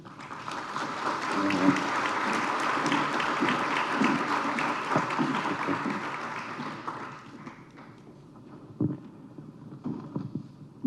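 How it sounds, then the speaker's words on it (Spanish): An audience at an innovation talk claps to welcome a speaker, a moderate burst of applause lasting several seconds before fading into scattered claps and faint voices. "recibamos con un fuerte aplauso a Diego Fernando Ospina"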